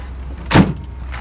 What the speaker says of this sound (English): So that all slides out for the tailgate step, which we can push back in.